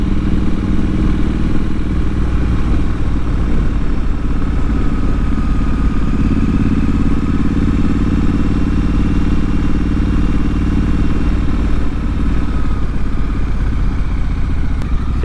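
A motorcycle ridden steadily in second gear at about 15 miles an hour on a lakeside road near Atlanta. The engine drones loud, close and constant throughout, mixed with wind rush.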